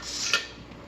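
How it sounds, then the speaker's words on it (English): A metal weight sets onto the vent of a pressure canner during home canning of seasoned pork and chicken with black beans, giving one brief close metallic clink over a faint steady hiss. "Okay, we're going to put the weight on"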